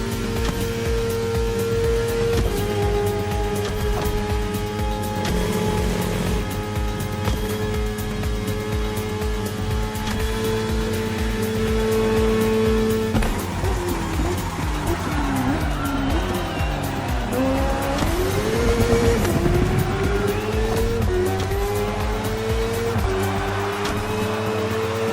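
Racing engine of a bike in The Crew Motorfest, loud and continuous, revving with shifting pitch and rising and falling across the whole stretch, with possible tire squeal, over steady game sound.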